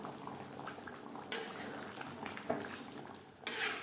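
Mutton and potato curry simmers in a pot, with soft bubbling and gentle liquid noise at low level, broken by a few sharp clinks of a utensil against the pot.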